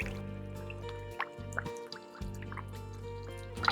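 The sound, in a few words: aquarium air tube moving water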